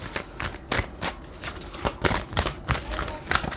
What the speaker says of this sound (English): Let's pull from the Moonology deck.